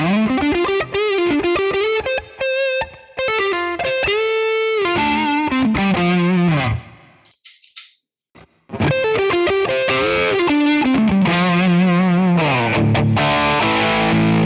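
Electric guitar played through a Two Rock OD100 amp model on a Tonex, with a distorted, effects-laden tone: sustained chords and single-note lines, a short near-silent break in the middle, then loud dense playing resumes.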